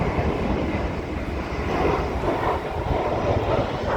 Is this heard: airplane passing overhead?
yes